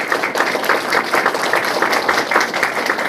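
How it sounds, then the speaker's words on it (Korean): Applause from the audience at the launch ceremony of a Syngman Rhee memorial society's Ulsan chapter, as a guest from Gwangju stands; dense, steady clapping close by that keeps going throughout, with no talk over it. "박수 한번 보내주시죠"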